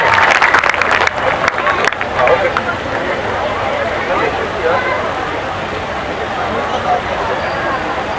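An audience at a gathering with a Japanese Buddhist religious leader breaks into loud, sustained applause, a dense wash of clapping that carries on steadily after a few sharper claps at the start.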